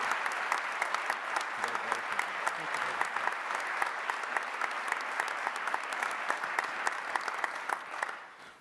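An audience applauds Steve Guttenberg as he receives the Samuel P. Capen Award at a University at Buffalo alumni awards event, with steady, sustained clapping from a large crowd that fades out at the end.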